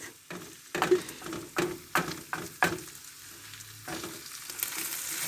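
Peppers are added to onions and meat frying in a pan, a steady close sizzle broken by rhythmic scraping stirs and clatters of a utensil.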